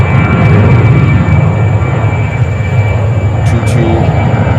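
A JetBlue Airbus A321 departs from JFK in New York, a loud continuous engine roar that holds steady throughout, with a voice talking over it.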